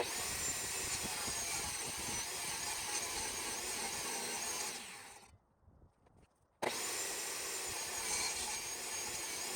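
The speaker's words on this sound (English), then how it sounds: "I'm gonna run that in against my fence, and I'm gonna cut off the bad end" A table saw rips the rough, unplaned end off a wooden board fed against the fence, a loud, steady roar that drops out for about a second and then starts again at full strength.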